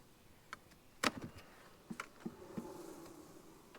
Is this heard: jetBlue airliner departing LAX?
no